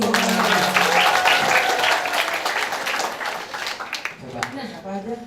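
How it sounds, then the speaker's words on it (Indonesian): An audience applauds at a live Astra insurance financial literacy event, a dense burst of clapping that fades over several seconds, with a voice and whoops heard over it toward the end. "Tepuk tangan lagi."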